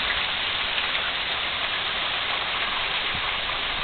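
Heavy rain pours down steadily outside a house during a small hurricane-like storm, a dense, continuous hiss with no breaks and no voices.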